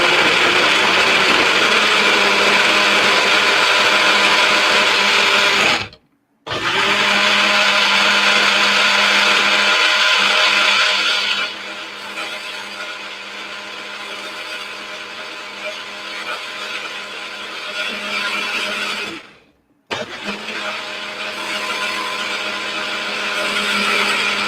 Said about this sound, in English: put it on the magic bowl and blend it up